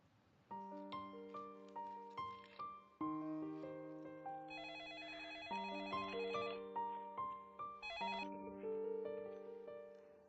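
A telephone ringtone plays a bright electronic melody in repeating phrases, clear and fairly close, with no one speaking.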